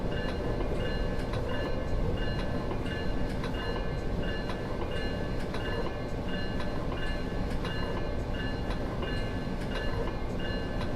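MARC Penn Line train running in Train Simulator 2021, a steady loud rumble of wheels on rails with regular clicking joints and a faint tonal whine, continuous and close, no voices.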